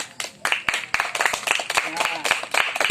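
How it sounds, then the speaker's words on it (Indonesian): Several children clap along in quick, uneven bursts at a children's worship gathering, close by, mixed with lively voices and shouting throughout. "Tepuk tangan buat Tuhan."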